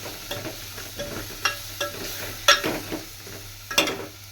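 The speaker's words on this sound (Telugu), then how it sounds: "బాగా ఫ్రై చేసుకోండి" Ground coriander and chilli fry in a pan with a low, steady sizzle, punctuated by a series of sharp scraping and tapping hits from a stirring utensil at irregular intervals.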